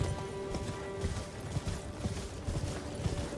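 Horse hooves gallop in a video game, a fast, steady clip-clop of repeated hoof strikes over a low ambient hum, with no one talking.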